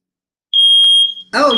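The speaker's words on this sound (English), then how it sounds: "I just set off the alarm, my incense." A smoke alarm set off by burning incense sounds a loud, steady piercing electronic tone for about half a second, then a person's voice follows close by.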